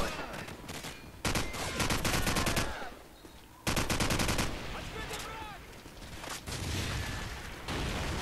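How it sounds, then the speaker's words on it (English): Heavy automatic gunfire in Call of Duty 4: Modern Warfare, long rattling machine-gun bursts loud and close, broken by brief lulls, with a faint voice underneath. "Stop this little bit of whoever's trying to shoot at me here."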